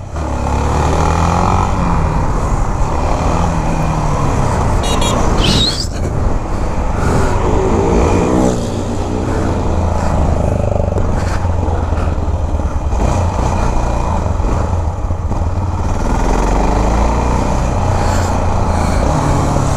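Motorcycle engine revving hard and continuously during a side wheelie on a road, loud and close throughout with a steady roar and a brief surge midway.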